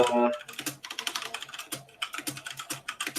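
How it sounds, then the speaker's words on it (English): Fast, forceful typing on a computer keyboard, a close, loud burst of irregular clacking keystrokes with brief pauses, heard alone. "what is with all the rage typing?"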